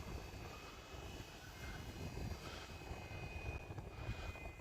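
A radio-controlled plane with Dubro skis flies a slow landing approach over snow, its steady, faint engine drone holding through the whole stretch with no talking.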